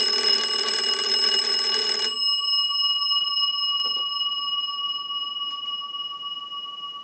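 A Kellogg magneto wooden bell box rings loudly and steadily for about two seconds, then cuts off, leaving a sustained electrical tone and a few faint clicks in the quiet that follows.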